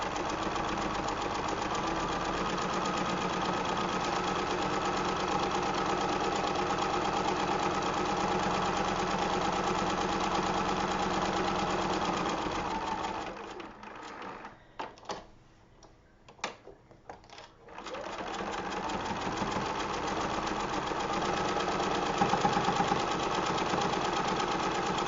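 A sewing machine stitching a trivet, including back stitching, runs with a steady mechanical hum and rapid ticking, stops briefly midway with a few clicks, then starts up again and keeps running.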